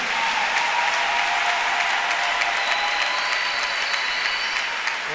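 A church congregation breaks into sustained, dense applause, loud and even from start to finish, a full crowd of clapping hands with no talking above it.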